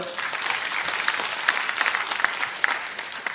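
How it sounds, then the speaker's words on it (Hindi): A crowd at a political rally in West Bengal claps continuously, a dense wash of applause with a few sharper individual claps standing out. "ताली बजाओ जरा"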